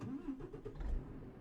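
A truck engine in Euro Truck Simulator 2 with Promods, a low rumbling throb that rises and falls slightly and stays steady throughout.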